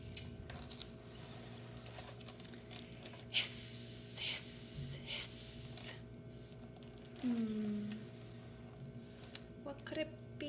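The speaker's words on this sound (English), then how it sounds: "They're hissing, and if I look at the letters, it starts with a sn sound." Snakes hiss in a children's story reading. Several faint, airy bursts come in a row over a low background hum, with a brief tonal sweep afterward.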